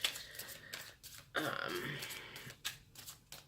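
Tarot cards are shuffled by hand close up, quiet irregular riffles and soft slaps in short bursts, with a voice speaking faintly underneath.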